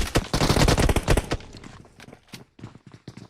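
Gunfire in the video game Clatter of Clans during a Grand Final match: a dense, loud rapid-fire burst for about a second, then scattered single and double shots trailing off.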